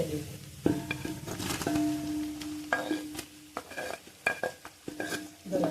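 Onion frying in a pan for chicken biryani, stirred with a spoon that clatters and scrapes against the metal over a soft sizzle, in irregular bursts close by with no talking.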